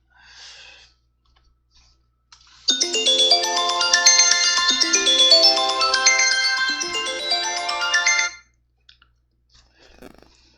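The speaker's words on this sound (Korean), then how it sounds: "이 도중에 전화가 오면 참 곤란해요" A mobile phone rings during a Korean church sermon, a loud melodic electronic ringtone of rising note patterns lasting about six seconds, then cut off; faint rustling and handling noises come before and after.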